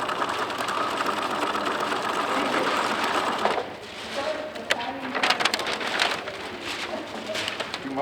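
Sewing machine stitching backwards in reverse through a Tyvek hospital gown, a steady close mechanical whir that drops off midway and resumes in rougher bursts, with no talking.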